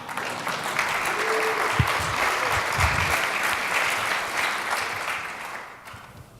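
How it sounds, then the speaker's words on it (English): Audience applause after a conference presentation, sustained and steady for several seconds, close and full, then tapering off at the end with no talk over it. "you can applaud"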